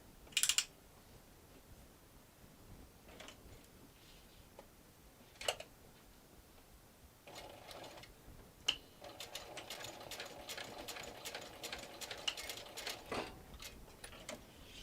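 A sewing machine top stitches folded fabric in a quiet room, its fast rattling run starting after a few scattered clicks and handling taps and continuing steadily to the end.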